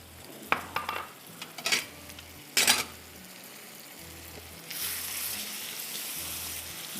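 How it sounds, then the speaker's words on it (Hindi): Chopped tomatoes go into a pan for tawa kabab. A few sharp clatters of utensil on metal come first, then a steady, fairly loud sizzle sets in and holds without any voices. "इसको हम टमाटर 3 चॉपर करके डाल दीजिए और इसको आप थोड़ा सा भून लीजिए"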